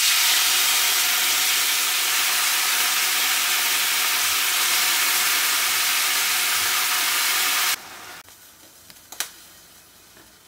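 Washed whole mushrooms frying in hot oil in a pan for mushroom gravy make a loud steady hissing sizzle that cuts off abruptly, leaving quiet room noise and a sharp clank.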